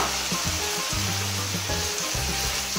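Crushed tomato sizzling and frying in a pan for seafood paella, a steady close crackle and hiss with low stirring thumps and no talk.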